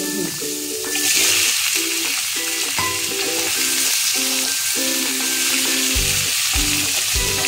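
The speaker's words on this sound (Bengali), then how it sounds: "এবারে ইঁচড়গুলো ভেজে নিতে হবে।" Young jackfruit frying in a pan, a loud steady sizzle with bursts of crackle running throughout, close and without speech.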